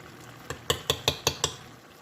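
A spoon clinks against a pan while stirring tomato paste, biryani masala and fried onions for chicken biryani: about six sharp, close taps in an even rhythm, with no talking.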